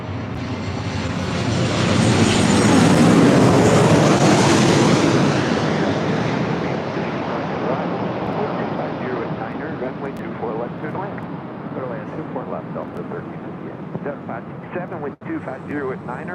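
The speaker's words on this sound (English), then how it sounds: "This is the Maryland 1, 737-700 with Southwest coming in from Las Vegas." A Southwest Boeing 737-700 arriving at LAX from Las Vegas, landing on runway 24 left, roars in loud and close, swelling to a heavy rumbling peak and then easing into a long, steady fading drone.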